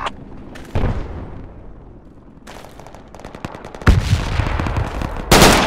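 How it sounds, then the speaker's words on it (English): Grenade blasts and gunfire in Project Reality: a sharp, heavy burst early on, then a loud crack near the middle and another close, powerful boom at the end, over a low, rumbling battlefield background. "I'm gonna throw a nade."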